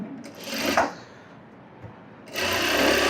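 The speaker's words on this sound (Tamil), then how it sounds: "இப்போதைக்கு நான் சும்மா ரஃப்பாக ஒரு தையல் போட்டுக்கிறேன்" A sewing machine runs a rough tacking stitch on a blouse in two short bursts of whirring, separated by a brief quiet pause, loud and close with no talk.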